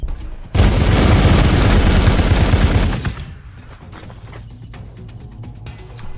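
Gunfire and a frag grenade in the Warhammer 40k Gladius video game: a loud dense burst of rapid fire and explosion for about two and a half seconds, then quieter scattered clicks and rattles.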